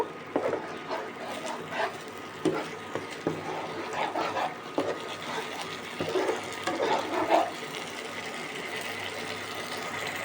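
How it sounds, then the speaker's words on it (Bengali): A spatula stirs and scrapes through mung and masoor lentil fritters in a mustard curry in a pan, making repeated close clinks and scuffs in uneven bursts for about ten seconds. "পুরোটা দিয়ে আমি কিন্তু একটু নেড়ে চেড়ে নেব।"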